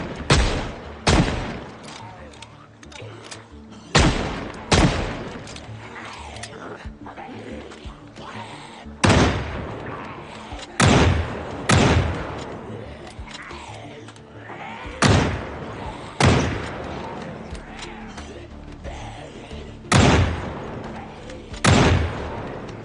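Rapid gunfire in the zombie survival game Project Zomboid: loud single shots cracking out one after another at irregular intervals, each with a short decaying tail, and no talking.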